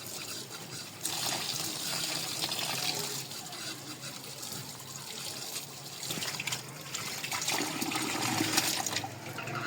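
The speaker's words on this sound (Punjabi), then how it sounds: "ਹੁਣ ਅਸੀਂ ਚਾਵਲਾਂ ਨੂੰ ਧੋਨੇ ਆ। ਸਾਡੇ ਸਾਬਤ ਚਾਵਲ ਨੇ ਤੇ ਇਹਨਾਂ ਨੂੰ ਧੋ ਲਿਆ ਅਸੀਂ ਜਲਦੀ।" Whole rice grains are washed in water in a village kitchen. Water sloshes, trickles and pours steadily and close by throughout, with brief louder gushes. No one speaks.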